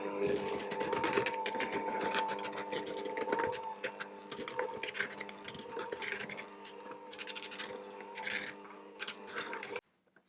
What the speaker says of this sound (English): I'm just going to mix that on a low speed until it comes together